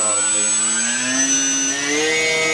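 Harbor Freight RC P51 Mustang model plane with mods at full throttle, its electric motor and propeller whining steadily and loudly up close with a rising pitch.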